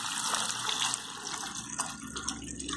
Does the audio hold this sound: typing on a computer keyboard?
no